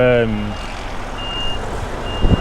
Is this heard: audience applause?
no